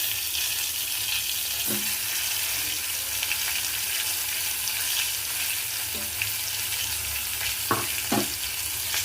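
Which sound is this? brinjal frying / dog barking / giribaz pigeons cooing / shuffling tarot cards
brinjal frying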